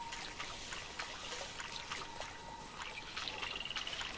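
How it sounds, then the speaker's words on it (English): A retriever dog moves through the water while duck hunting in theHunter Classic. Soft splashes and trickling water sound continuously at a moderate level, with a few brighter sploshes. "I'm hearing it in the water splooshes"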